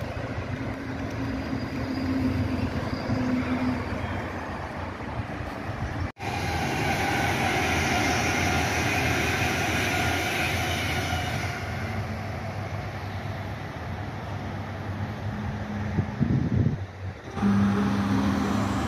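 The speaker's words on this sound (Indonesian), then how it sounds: "Nih, kereta cepat lewat tuh." Whoosh high-speed train on the elevated KCJB track near Bandung, a loud sustained rushing roar close by for most of the passage, with a brief sharp click early and rumbling traffic underneath.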